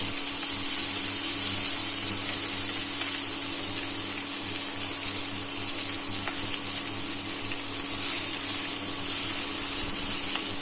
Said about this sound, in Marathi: गॅस या स्टेपला हाय फ्लेमवर का घ्यायचा आहे कारण मेथी चांगली परतायची